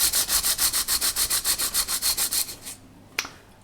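Sandpaper rubs the wooden hull of a Vanguard Models HM Sherbourne ship model in about fifteen quick, even back-and-forth strokes, close and fairly loud, then stops, followed by a single light tap.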